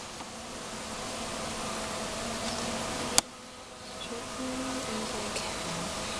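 Honeybees buzz around a hive frame being lifted out, a steady, fairly soft drone of many wings up close with one sharp knock partway through.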